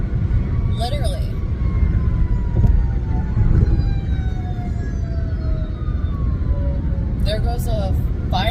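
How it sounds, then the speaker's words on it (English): A fire truck siren wails from a distance and sweeps slowly down in pitch as it passes along a highway, under loud, steady road and wind rumble, with short bursts of nearby sound at the start and end. "There goes a fire truck"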